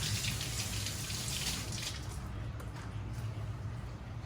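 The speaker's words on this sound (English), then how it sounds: "Rinse my hands a bit." A kitchen tap runs steadily and close by while hands are rinsed beneath it, giving a continuous rushing splash of water with no talk.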